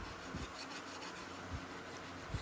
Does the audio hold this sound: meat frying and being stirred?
no